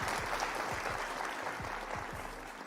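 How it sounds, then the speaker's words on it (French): Small group applauding a French woman's graduation with a five-year master's-level degree, steady dense clapping that continues evenly throughout without any speech over it. "Est-ce qu'on peut applaudir?"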